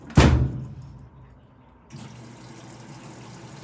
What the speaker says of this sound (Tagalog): May tubig na po yung ating dryer.